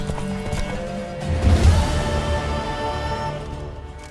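A horse gallops with rapid, steady clip-clop hoofbeats in The Witcher 3, with a whinny partway through, close and fairly loud without talk.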